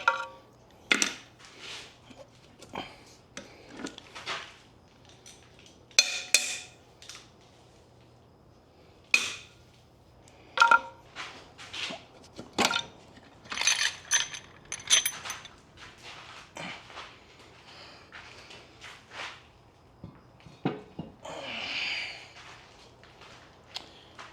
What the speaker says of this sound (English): we're going to go ahead and get this head off of here